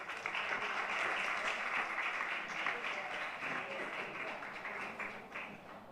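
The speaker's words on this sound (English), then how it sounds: "A big round of applause for her." Audience applause at a festival gathering, a dense steady round of clapping that fills the whole stretch, loud and close, tapering slightly toward the end.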